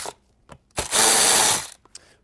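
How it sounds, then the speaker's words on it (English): A hand tool loosens 7mm bolts on a 2019-2025 GMC Sierra 1500 / Chevy Silverado 1500 door panel, with a few short clicks and then one loud, sustained mechanical whir lasting under a second. "Go ahead and remove your 7mm hardware bolts with the tool of your choice."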